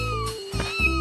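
A cartoon cat gives a short, loud meow in two quick parts, close and clear, from a dubbed animated series.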